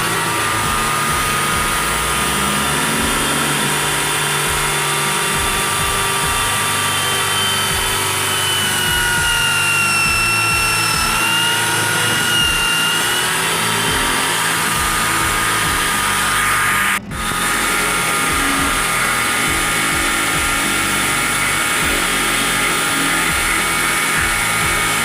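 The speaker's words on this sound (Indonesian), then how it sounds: "selanjutnya kita bor sahabat ya sesuai dengan garis" Continuous high-pitched whine of a power drill boring into a coconut shell, steady and loud, with a brief sharp break partway through.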